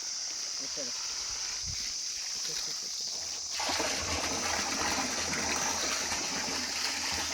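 Water pours and splashes steadily into a container holding organic fertilizer on a coconut farm, growing louder halfway through, with a few voices speaking faintly early on.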